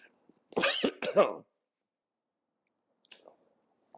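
A short burst of harsh, close coughs, two or three in quick succession, then quiet with a faint throat noise a moment later.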